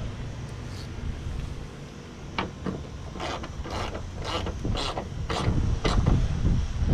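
Ratchet clicking as a 12mm socket tightens a hood damper bolt on a Mitsubishi Lancer EVO X, a run of sharp close clicks in spaced bursts over steady background noise.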